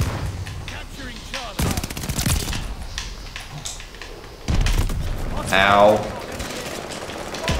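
Gunfire bursts from a weapon in the video game Call of Duty: Vanguard, rapid volleys rattling in short strings with booming impacts, while someone speaks briefly over the action.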